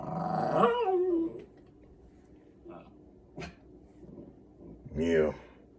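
A human voice imitates a dog, growling low and rough, then breaking into short yips and whimpers, with brief quiet gaps between the bursts.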